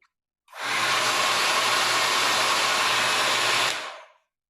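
An iTeraCare device's fan runs on high fan, low heat, giving a steady loud airy whoosh that starts abruptly, holds evenly for about three seconds, then stops, with no talking.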